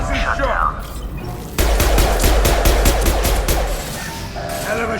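A concussive shot fired in a video game: a loud, rapid burst of sharp repeated blasts lasting about three seconds, with voices and game noise before and after it.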